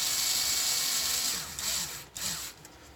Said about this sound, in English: I'm going to snug them up with the little electric drill